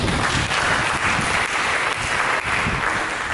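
A church congregation claps together after a sermon, a loud, continuous wash of applause that holds steady for several seconds with no talk over it.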